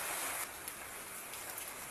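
Steady rain pours over open farm fields and rice paddies, a dense continuous hiss that holds even throughout with no voices.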